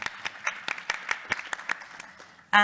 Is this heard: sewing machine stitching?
no